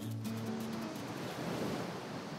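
Ocean surf rolls in with a continuous wash of breaking waves and wind rumble along the coast of Madagascar, steady and fairly loud with a faint tonal hum at the start.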